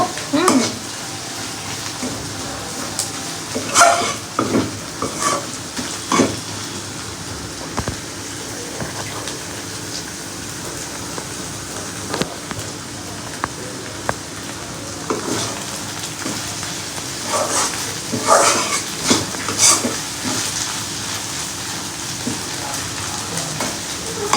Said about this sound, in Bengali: তো একটু ভাজা ভাজা হোক